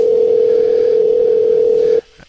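A steady telephone tone sounding during a call on an MMA podcast, one continuous loud hum that stops abruptly, leaving near silence with a couple of faint clicks.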